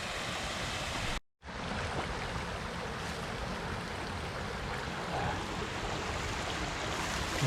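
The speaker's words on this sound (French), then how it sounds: "je vais vous faire voir la cascade" A waterfall on a wooded mountain stream roars with a steady, dense rush of falling water, continuous and close, broken only by a brief cut early on.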